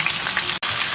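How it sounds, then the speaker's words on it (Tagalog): Chicken tocino sizzles and crackles steadily in a frying pan, a dense close frying hiss with one brief break. "Atin ngayon piprituhin yung ating ginawang tusina."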